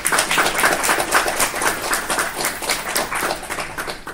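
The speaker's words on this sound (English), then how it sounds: "One more round of applause for Nora, guys." A modest audience applauds at the close of a career talk about the startup journey, with distinct, fairly close hand claps in a steady patter for about four seconds and no speech over it.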